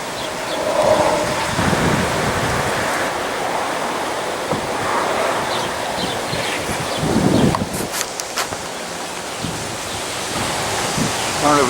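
Wind and rain of a storm rolling in over a hill, a steady loud rushing roar with gusty swells throughout, a voice speaking briefly over it.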